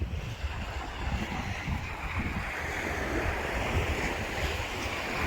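Steady surf washes onto a sandy beach on the Lisbon coast at Oeiras, Portugal, in a continuous broad roar, with wind rumbling across the microphone throughout.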